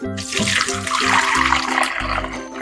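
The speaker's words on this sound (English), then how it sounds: "And now we're ready to pour our milk cheese mixture through the strainer." A goat milk cheese mixture pours through a strainer with a wet, splashing rush of liquid, loud and continuous over steady background music.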